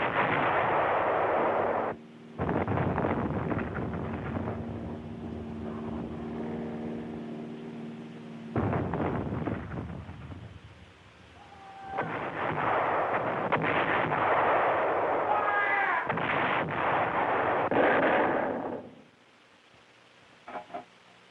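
Heavy artillery guns fire in a WWII battle near Cherbourg, Normandy, 1944: loud, booming blasts in long sustained bursts, each ending in a rumbling roar and echo, separated by short gaps.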